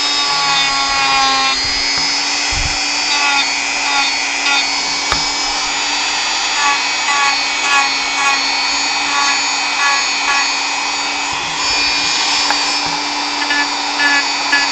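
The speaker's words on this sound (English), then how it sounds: "Once I get the hand sander in there, that should fix things up a little bit." An electric hand sander works over a hobby model of a Final Fantasy V subject, producing a loud, continuous motorized whine with a harsh grinding edge that stays close and unbroken throughout.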